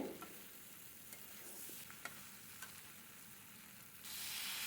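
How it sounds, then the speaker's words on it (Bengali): Young jackfruit curry is stir-fried in a pan with a continuous quiet sizzle, and a spatula scrapes and clicks against the pan at intervals. The frying swells louder just before the end. "আর ভালো করে এঁচোড় দিয়ে ভালো করে আর একটু কষিয়ে নেব"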